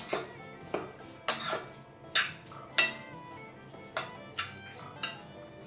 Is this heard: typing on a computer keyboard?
no